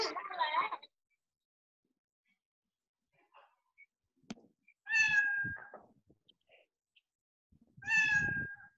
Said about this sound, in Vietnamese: Mèo kêu.